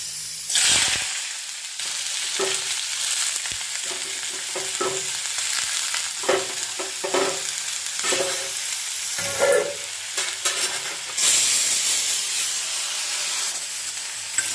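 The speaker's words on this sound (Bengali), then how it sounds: "এদিকে দেখো একটুখানি বসিয়ে দিলাম আলু ভাজা" Potatoes fry in a pan for aloo bhaja, a loud continuous sizzle broken by repeated clattering stirs and scrapes, close up with no talking.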